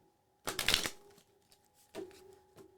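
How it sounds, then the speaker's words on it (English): A deck of tarot cards being shuffled by hand: a close, crisp riffling burst, then a quieter second shuffle a moment later, in an otherwise quiet room. "Let's see, maybe we need to shuffle again."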